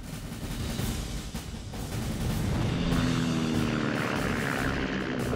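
An F4U Corsair naval propeller fighter with a huge 13-foot propeller roars past, its engine drone rising and swelling in loudness before fading slightly, with no voices.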